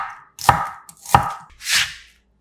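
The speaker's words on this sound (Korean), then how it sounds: "달큰한 양파 반 개는" A knife cuts half a sweet onion into thick strips on a cutting board, giving three sharp chopping strokes about half a second apart, with no one talking.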